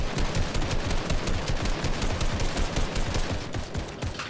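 Rapid automatic gunfire from a video game shooter, dense bursts of shots rattling continuously and loud throughout, with no speech over it.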